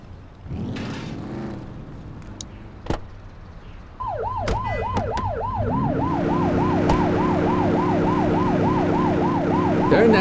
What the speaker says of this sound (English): that siren off. We don't need it on right now.